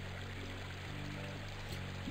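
Steady rushing water from a waterfall in the video game Freddi Fish 4, a continuous mid-level cascade with a faint musical drone underneath.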